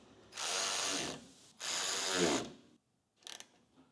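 An impact tool snugs fasteners on the reel shaft of a QA5 mower reel in two loud, sustained rattling bursts, followed by a short clicking burst, close up with no talking.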